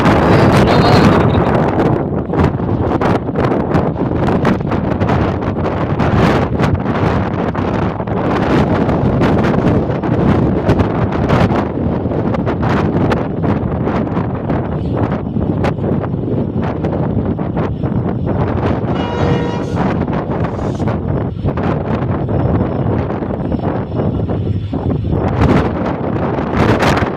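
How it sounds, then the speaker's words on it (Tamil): Strong wind roars steadily across the Pamban bridge, a loud, constant buffeting rush against the microphone with rustling gusts throughout. "காற்று இங்கே அதிகமாக இருக்குது பாலத்தில்"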